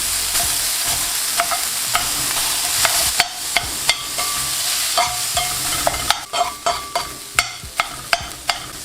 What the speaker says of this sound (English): Now throw in some of those onions, jalapenos, a touch of oil on there.